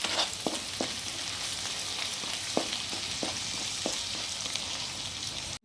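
Green chillies and crushed garlic paste fry in a pan with a steady, loud sizzle, while a utensil stirs them and scrapes with several sharp clinks.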